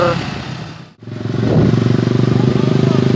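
Motorcycle engine revving gently out on a ring road, loud and close; after a brief dropout the engine settles into a steady, throbbing pulse, with faint talk underneath.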